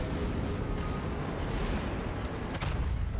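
Heavy naval gunfire from a Kurfurst tier 10 German battleship's main guns in World of Warships, a dense, continuous roar of overlapping booms and blasts with a sharper crack near the end.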